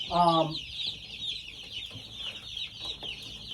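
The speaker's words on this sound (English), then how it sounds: "this seems like a lot of chickens for only 3 waters" Chicks cluck softly in a loose, irregular scatter, with one brief squawk near the start over a steady high-pitched hiss.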